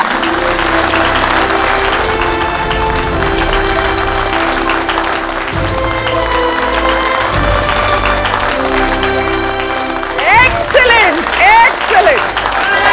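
Studio audience clapping on a Hindi television show, loud applause mixed with background music and crowd noise, with some voices and musical flourishes near the end.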